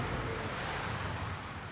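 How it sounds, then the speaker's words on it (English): A torrential summer downpour in central London hisses densely and continuously, a loud unbroken wash of rain with no voices. "the summer heat is broken with a torrential downpour"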